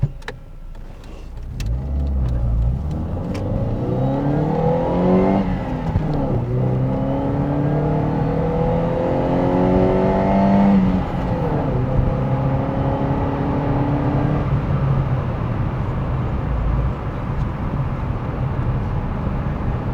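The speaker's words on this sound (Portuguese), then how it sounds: "Vamos mostrar agora como o Ford Ka Sport se comporta na estrada." A Ford Ka Sport drives on the highway, its engine rising steadily in pitch as it accelerates through the gears, with a constant loud drone of tire and road noise throughout.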